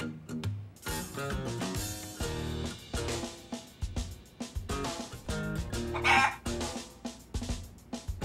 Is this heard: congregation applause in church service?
no